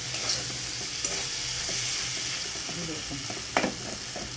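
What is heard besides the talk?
spice paste and potatoes frying in a pan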